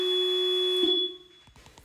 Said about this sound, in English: I was a little worried about this horn when I first heard it because I knew I was going to be interacting with vehicles on busy streets.